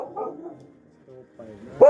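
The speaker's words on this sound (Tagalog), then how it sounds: "Eh, yung aso mo pa yan doon sa kabila?" A dog barks several times in quick yips at close range, with people talking nearby in between.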